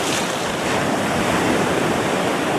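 A downed aircraft sinks under the water in a carrier jet-fighting VR game, producing a loud, constant rushing wash of water noise that holds steady from start to finish.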